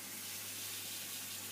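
Hot water, no longer boiling, poured onto malt in a homebrew fermenter, a steady rushing hiss with a low hum beneath, continuous and fairly close.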